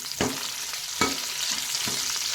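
Curry leaves and a Byadgi chilli frying in hot oil for bonda soup, a continuous crackling sizzle with a few distinct stirring scrapes at roughly even intervals, close and fairly loud.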